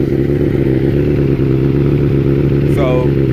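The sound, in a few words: motorcycle with Big Gun Evo R slip-on exhaust starting and running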